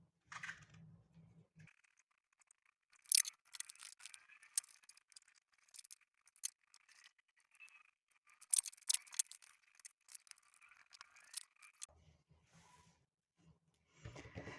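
Scissors snip tape from a handmade paper envelope with quiet, close crisp cuts in irregular bursts, separated by pauses and light paper rustling.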